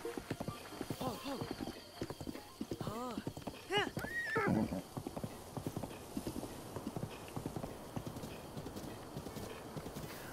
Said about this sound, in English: Let's go ahead and get our horse registered here.